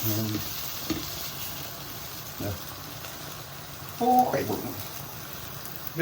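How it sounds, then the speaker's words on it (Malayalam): Chicken frying in a pan on a low flame, a soft steady sizzle under someone speaking, with a few clinks and stirring scrapes from the pan. "ലോ ഫ്ലെയിമിൽ വെച്ചിരുന്ന നമ്മുടെ ചിക്കൻ എന്തായാലും നമുക്ക് നോക്കാം"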